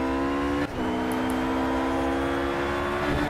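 A Porsche GT3 race car engine in Project Cars holds a steady, buzzing high-revving drone. Early on it dips briefly as if shifting gear, then carries on at a near-constant pitch, alone and close.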